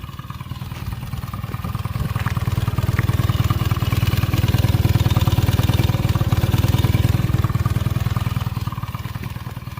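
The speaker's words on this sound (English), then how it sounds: "But the scooter used to be a lot louder than that." A 1985 Honda Vision NE50 50cc scooter engine runs steadily nearby, a buzzy, rapid two-stroke-style putter that swells slightly and holds, with no voices.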